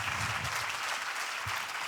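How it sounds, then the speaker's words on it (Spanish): An audience at an outdoor showcooking event applauds a chef, a continuous dense wash of clapping at moderate level, steady throughout the short stretch. "Un aplauso, por favor, para Ferdinando."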